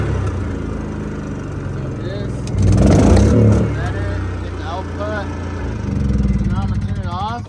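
A Predator portable generator mounted in a mobile detailing van starts up and settles into a steady engine drone, with a louder surge partway through, while a voice talks over it.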